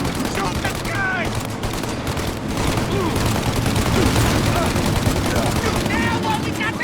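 Dense machine gun fire rattles continuously through a countryside ambush in the Mafia: Definitive Edition video game, loud and close, mixed with shouted voices and chaotic battle noise.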